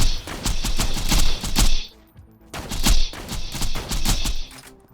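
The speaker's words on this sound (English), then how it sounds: "Trying to shoot that point in the join in between the spider tank there." A Borderlands 2 Pimpernel sniper rifle fires at a spider tank in two loud, rapid volleys of cracking shots with a short pause between them.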